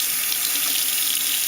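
Tap water running steadily into a sink while a makeup brush is held under the stream, a close, continuous hissing splash with no talking.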